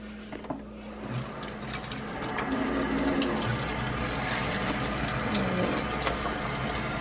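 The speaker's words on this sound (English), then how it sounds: "We're rinsing off Daddy's shirt now." Tap water runs steadily into a sink as a tie-dyed shirt is rinsed, a continuous close splashing flow that grows a little fuller partway through, with no talking.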